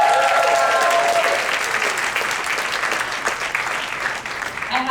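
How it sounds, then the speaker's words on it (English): A conference audience gives a panel a full round of applause, dense steady clapping that starts loud and gradually tapers, with a voice briefly speaking over the opening. "Another round of applause for them."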